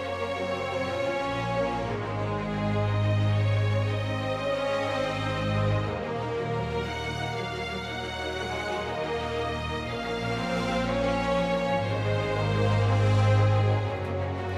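Orchestral arrangement with a melody line, supporting bass and a contrasting horn counter melody, sustained and full, swelling gently in a steady, continuous texture with no voices.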